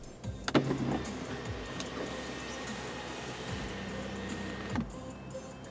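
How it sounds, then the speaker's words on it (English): The optional power moonroof on a 2018 Subaru Impreza 50th Anniversary moves, a steady electric motor whir inside the cabin that starts and stops with soft mechanical clicks, heard alone at moderate volume. "We also have the optional power moonroof."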